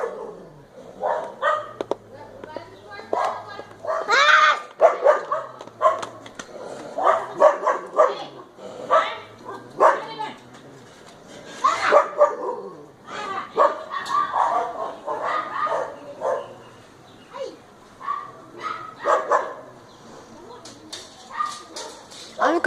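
A dog barks and whimpers excitedly, eager to go outside, with loud, repeated yips and barks in bursts while people talk over it.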